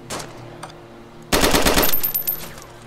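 Gunfire in the video game DayZ: a short burst of shots, then a dense, loud rapid-fire volley lasting about a second, with lighter shots trailing off after it.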